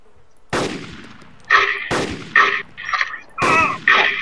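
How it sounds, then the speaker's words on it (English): Several loud gunshots ring out in irregular bursts, each with a sharp crack and echoing tail, separated by brief quieter gaps, in the video game DayZ. "Uh-oh, I heard gunfire."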